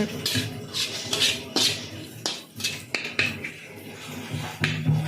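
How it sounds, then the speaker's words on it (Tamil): Okra and potato fry being stirred in a pan with a ladle, giving a run of close metallic scrapes and clinks in an irregular rhythm, alone without talk. "கரண்டியில் நல்லா கிண்டி விட்டுட்ருக்காங்க நல்லா கிளறிக்கிட்டே இருக்காங்க"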